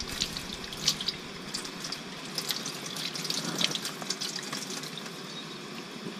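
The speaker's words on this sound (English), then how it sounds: "I'm not submerging it in water per se, just enough to rinse off the grit." Running water rinsing grit off chanterelle mushrooms in a stainless steel pot, a continuous soft splashing stream with small drips and splatters, close and moderately quiet.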